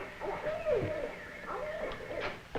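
A captive owl gives a few hoots close by, descending wavering calls with brief pauses between them and no speech over them.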